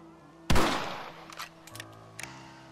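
A single loud rifle shot in Red Dead Redemption, a sharp crack with a decaying echo, followed by a few faint clicks and small knocks against a quiet hum.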